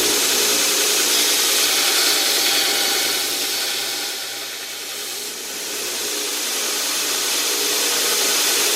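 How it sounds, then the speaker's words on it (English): A bench grinder cleans up a small piece of forged knife steel. It makes a loud, continuous, hissing grind that dips briefly in the middle and then rises again, close by. "I'm just going to take it on the grinder and clean it up."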